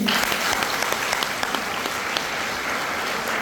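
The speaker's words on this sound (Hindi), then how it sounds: "एक ताली होना चाहिए" Steady, dense applause from an audience at a health awareness program, welcoming a guest; loud and continuous for the whole stretch with no speech over it.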